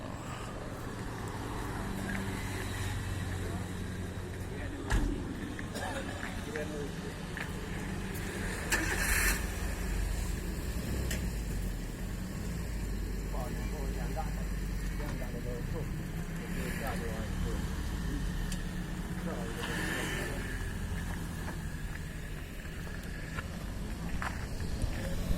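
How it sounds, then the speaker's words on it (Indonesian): A working truck's engine rumbles steadily throughout as goods are loaded, with a few louder bumps from the loading. People talk nearby over the engine noise. "Truk kerja muat barang."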